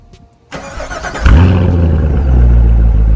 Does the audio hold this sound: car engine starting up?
yes